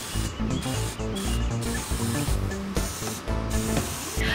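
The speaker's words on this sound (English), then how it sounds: "I'm gonna coat it with this acrylic spray paint and let it dry" Acrylic spray paint hisses onto a welcome mat in several short bursts, heard under steady background music.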